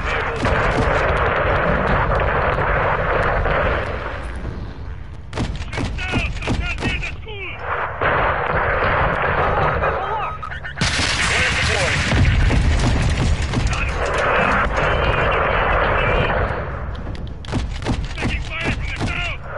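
Enemy gunfire in a PS4 game, bursts of rapid shots and thumping booms recurring in clusters between stretches of steady game noise, moderately loud, with some talk mixed in.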